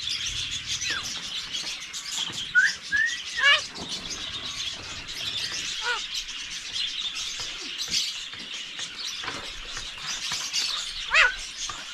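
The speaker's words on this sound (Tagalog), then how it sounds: "Habang nakaupo tayo dito, tinatawag tayo ng ating ibon." Several sharp bird calls and chirps ring out in bursts over a quiet outdoor background, fairly close, with short gaps between calls.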